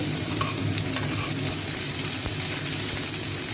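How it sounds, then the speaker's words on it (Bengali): Chopped onion, garlic, black cumin and dried red chilli frying in hot oil, a steady loud sizzle with occasional stirring scrapes throughout. "কালো জিরে, শুকনো লঙ্কা আমি ফোড়ন দিচ্ছি, পেঁয়াজ কুচো দিচ্ছি, রসুন একসঙ্গেই দিয়ে দিচ্ছি"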